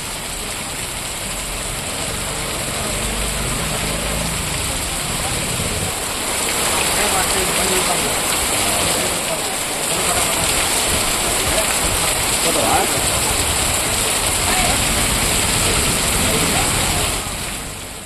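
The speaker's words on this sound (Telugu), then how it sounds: "ఉరుములు మెరుపులతో కూడిన వర్షం కురుస్తోంది" Heavy rain from a thunderstorm pours down steadily, a dense continuous hiss of drops on surfaces that grows slightly louder partway through and holds to the end.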